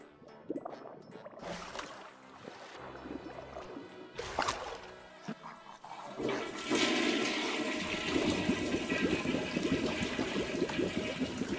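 A toilet flushes in the video game I Am Fish: scattered splashes and clunks, then a loud, steady rush of swirling water that keeps roaring to the end.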